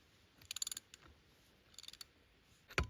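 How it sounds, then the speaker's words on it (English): Ratchet wrench tightening the saddle of a hot tap onto a pipe, heard as two quick runs of sharp clicks followed by a louder clunk, close and otherwise quiet. "I'm going to tighten up my saddle right here at this spot"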